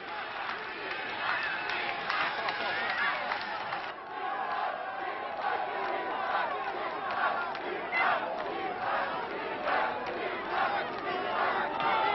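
A dense crowd of onlookers on a Paris avenue greeting Jacques Chirac, a continuous roar of many voices cheering and calling out, close and loud throughout with no break.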